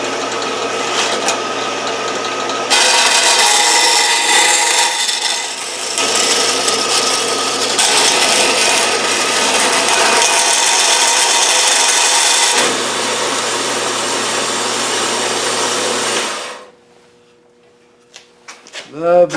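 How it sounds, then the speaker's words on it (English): An Evolution saw cuts through thin metal DIN rail with a loud, sustained grinding whine. The cut runs in long stretches broken by brief pauses, then stops abruptly into near silence. "I went to the Evolution saw, and believe it or not, it cuts thin stuff like that."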